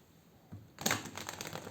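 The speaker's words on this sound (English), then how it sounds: "I need to shuffle these cards" A deck of tarot cards is shuffled by hand, a soft riffling and flicking of cards that starts after a brief quiet pause and continues as a close, dense patter with no talking.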